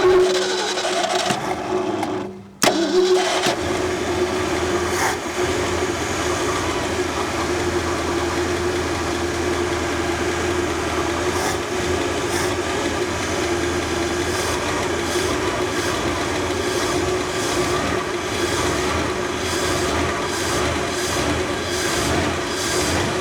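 A 1964 Mercury Comet engine cranks briefly, catches after a short pause and settles into a steady, loud idle with a faint ticking lifter running throughout.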